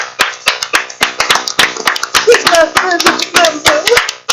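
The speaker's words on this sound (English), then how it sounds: "Round of applause" Hand clapping from a small group, with many sharp claps in an irregular, uneven rhythm over about four seconds, loud and close, while voices chatter and laugh underneath.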